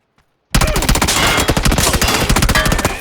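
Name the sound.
gunfire in a video game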